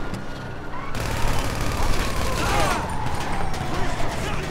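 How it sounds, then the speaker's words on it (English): Rapid bursts of gunfire aimed at a car driver in GTA V Online, loud and dense crackling shots layered over engine and street noise, with a voice talking throughout. "Got a few shots at the driver,"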